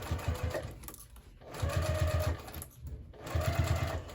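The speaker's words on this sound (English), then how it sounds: "I am just going to go ahead and sew it from the lining side like this." Domestic sewing machine stitching a crossbody bag from the lining side, running in three close bursts of steady rapid needle chatter separated by short pauses for fabric handling.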